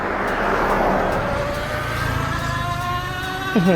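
A 250W DIY electric bicycle accelerates at full throttle from a standstill, its motor whine rising steadily in pitch over a few seconds, loud and close with wind noise, and a brief voice near the end.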